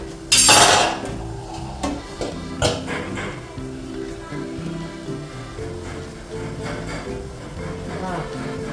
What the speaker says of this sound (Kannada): ಇವಾಗ ಇದರ ಮುಚ್ಚಳ ತೆಗಿತೇನೆ, ಬೆಂದಿದ ನೋಡುವ